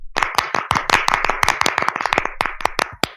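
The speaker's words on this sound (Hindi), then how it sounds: "आराध्या के लिए तालियां बजाएं।" A small group claps for a child named Aradhya, loud sharp individual hand claps in an uneven rhythm, close by and with no talking.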